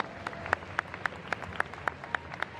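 Applause for cosplayers at a costume competition, with one clear clapper striking sharp, evenly spaced claps about four per second over a faint background of crowd clapping.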